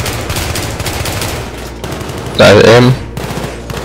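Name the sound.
gun firing in Battlefield 3 video game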